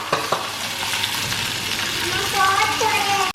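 Sliced okra and tomato sautéing in hot oil for a Tamil kara kuzhambu, a close, continuous sizzle with scraping stirs and a sharp clank near the end; faint speech underneath.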